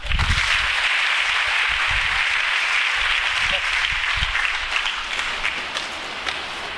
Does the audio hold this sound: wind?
no